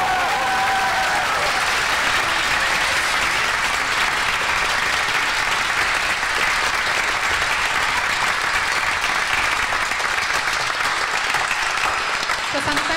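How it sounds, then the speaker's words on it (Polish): Steady, dense applause from a concert audience for a full choir at a Christmas carol-singing event in Zielona Góra, a loud unbroken wash of clapping lasting throughout without a break. "A teraz myślę, że gromkie brawa, już nie jeden klask, ale dla całego chóru"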